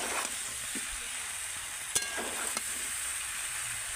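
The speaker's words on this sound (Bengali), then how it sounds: "এবার আমি ভেজে রাখা আলুটা এঁচড়ের মধ্যে দিয়ে দেব। আলুটা দিয়েও আমি আবারও কিছুক্ষণ একটু কষিয়ে নেব।" Jackfruit and fried potato curry sizzles steadily in a pan while being stir-fried, with a few short clinks of the spatula against the pan, close and constant in the background with no voices.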